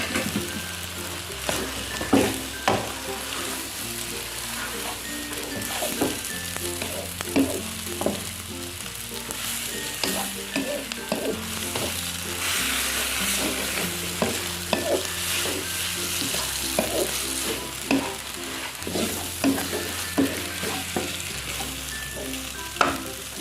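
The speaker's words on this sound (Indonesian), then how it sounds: "Kita aduk-aduk hingga merata" Rice vermicelli stirred and tossed in a frying pan with wilted vegetables and scrambled egg, giving steady scraping and soft sizzling throughout, with background music playing underneath.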